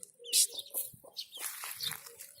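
Chickens in a coop cluck and chirp in a busy, overlapping chatter, with scattered higher peeps and some shuffling close by.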